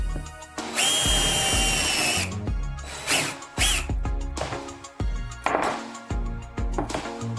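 A power drill with a plastic zip tie fastened on the bit as a depth stop bores into a wooden board on a workbench: a loud, steady whine for over a second, then a series of short, sharp bursts and knocks.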